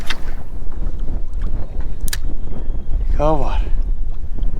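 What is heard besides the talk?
strong wind whipping outdoors at a fishing spot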